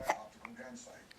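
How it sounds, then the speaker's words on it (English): A baby gives a single short hiccup at the start, followed by soft infant vocal sounds and quiet breathing close by. "Oh, you get the hiccups."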